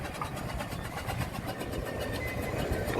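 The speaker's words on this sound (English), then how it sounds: "Now the road locomotive." A steam road locomotive at a steam fair, a close, steady rhythmic chuffing and mechanical clatter with a busy outdoor background.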